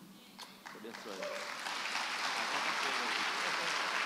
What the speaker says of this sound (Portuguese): forte esse aplauso ao nome do Senhor